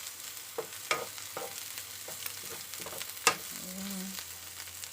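Garlic and onion frying in oil in a home kitchen pan, a steady soft sizzle broken by several sharp utensil clicks and scrapes, with no talking.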